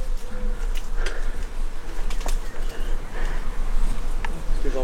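Bees buzz around a nest inside a badly decayed abandoned building, a steady, moderately close droning hum with brief louder passes and scattered small knocks.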